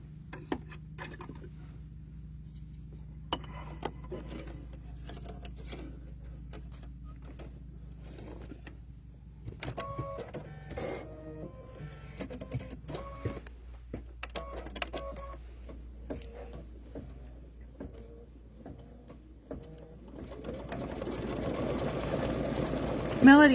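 An embroidery machine stitches leaves in green thread for an in-the-hoop Chucky pumpkin potholder, a rapid clattering, ticking run that grows busier and louder toward the end, with a person talking at times.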